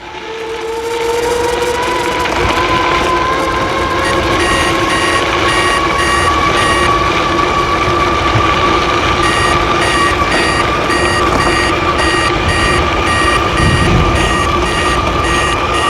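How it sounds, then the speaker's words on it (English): Warning beeps from an Ebikeling AWD dual-motor 26-inch 1000W 48-volt e-bike set to cycling mode when passing 25 mph, short pulses repeating steadily in bursts over a continuous motor whine and wind noise. "I put it on cycling mode and it starts giving you a warning sound when you go over 25"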